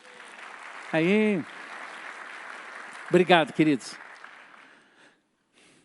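A church congregation gives a round of applause for a Venezuelan couple, a soft, steady patter of many hands that runs beneath a couple of short spoken phrases and then fades to quiet.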